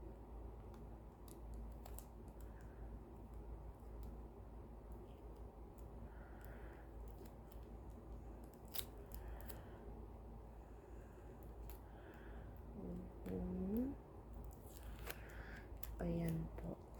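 Scissors cut leftover tape while a DIY bag is being made: faint, sparse snips and clicks sit low beneath a steady room hum, with a slightly louder pair of cuts near the end.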